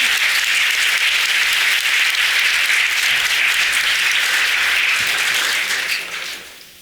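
An audience at a literary book fair applauds warmly, a dense, loud wall of clapping that holds steady for several seconds and then tapers off toward the end.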